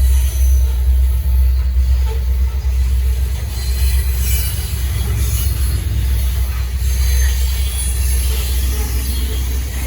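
A freight train hauling Canadian Pacific and KCS hoppers on the Norfolk Southern Charlotte District rolls past close by, a loud continuous rumble of wheels and cars with faint squealing, heard without any talk.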